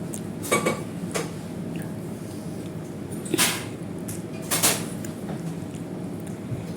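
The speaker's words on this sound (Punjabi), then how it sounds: "ਇਹ ਆਪਾਂ ਭਾਂਡੇ ਧੋਏ ਸੀ ਸੁੱਕ ਗਏ ਨੇ ਤੇ ਆਪਾਂ ਇਹਨਾਂ ਨੂੰ ਇਹਨਾਂ ਦੇ ਟਿਕਾਣੇ ਤੇ ਰੱਖ ਦਿੰਨੇ ਆ" Dishes and cutlery clink and clatter in a few separate bursts as items are set down in a quiet room.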